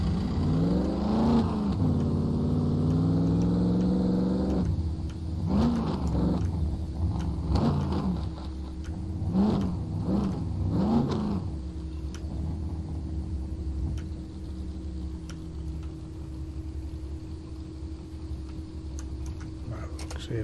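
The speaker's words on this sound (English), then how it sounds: "Let's have a drive around to the police station." A car drives in the survival video game SCUM, its engine revving and rising in pitch, then dropping into a steady low rumble with a few ticking surges, close and fairly loud throughout.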